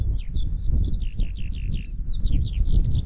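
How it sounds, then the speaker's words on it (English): Skylark song outdoors on a windy open landscape at the solstice: a rapid, continuous stream of high trilling chirps and warbles carrying over steady low wind rumble, moderately close throughout. "Little skylark. Giving it the beans there."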